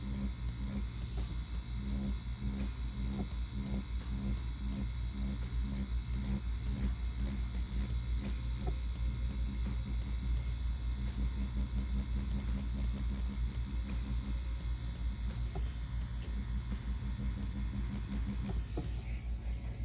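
CNC Q1 tattoo machine stipple shading on skin, a continuous buzzing motor hum with rapid pulsing texture and slight speed changes, close and steady, with no voices over it.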